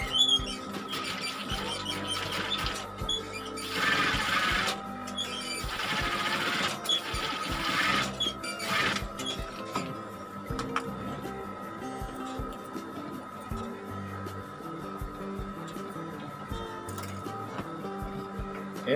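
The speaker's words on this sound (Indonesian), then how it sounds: "Langsung dijahit dari bagian dalam ya." A sewing machine stitches the lining of a men's suit jacket, its fast mechanical rattle starting and stopping in runs, with softer handling noises of fabric in the pauses between bursts.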